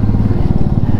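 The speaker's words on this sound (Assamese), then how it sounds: "ৰাস্তাটোত বাইক চলাই মজা লাগিছে" A motorcycle rides a mountain road toward Sela Pass near Tawang, its engine giving a loud, close, steady pulsing throb for the whole short moment.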